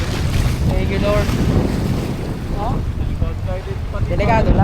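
Strong wind gusting across an open shoreline with rough surf nearby, loud and continuous; people talk intermittently over the roar.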